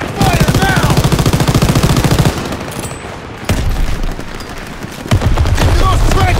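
Suppressing fire in the Call of Duty WWII campaign, a loud continuous rattle of rapid machine-gun bursts and rifle shots with booming hits, close and dense, easing briefly midway before the firing surges again, with shouted in-game voices among it.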